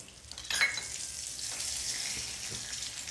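Mustard seeds and curry leaves hit hot oil while tempering a foxnut (makhana) snack, giving a sharp hiss that settles into a steady, close sizzle with faint crackles.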